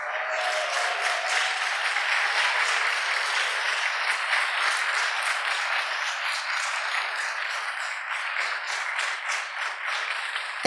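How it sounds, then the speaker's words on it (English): An audience at an awards ceremony applauds the standing nominees, dense sustained clapping from a large room that continues evenly for about ten seconds with no talking. "Let's give them a round of applause."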